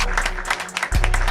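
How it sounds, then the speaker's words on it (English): Studio applause sound effect for a financial literacy podcast intro: a short burst of crowd clapping, close and loud, layered over a deep bass beat thumping underneath. "Clap it up."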